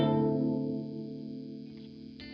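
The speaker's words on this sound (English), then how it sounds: "as I turn it down, it gets much darker." Reverb tail from an Artifakt Lo-Fi Elements µVerb pedal as its high cut filter is turned down, the wash losing its upper shimmer and growing darker and softer over a couple of seconds before a short bright flick at the close.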